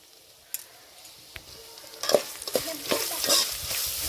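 Grated raw mango hitting hot oil, a few scattered clicks first and then a burst of sizzling and frying crackle that builds and settles into a steady close hiss.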